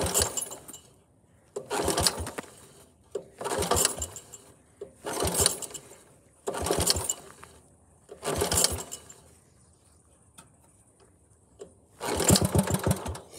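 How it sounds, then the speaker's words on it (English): A 1961 Wheel Horse 551 Suburban garden tractor engine is pull-started repeatedly, with about six rattling bursts of cranking that briefly sputter into firing, each separated by short quiet gaps, heard up close. "First pull with the ignition switch in the center, and it fired up a little bit."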